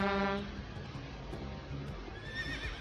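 A truck horn blares once, loud and short at the start, then fades into background noise with a horse whinnying near the end.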